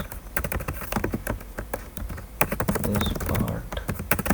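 Rapid typing of Python code on a computer keyboard, a dense run of close, crisp key clicks with irregular rhythm and occasional heavier thumps, continuous throughout with no talking.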